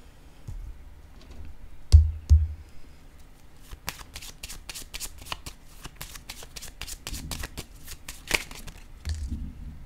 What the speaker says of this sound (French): Je vais déposer une carte ici.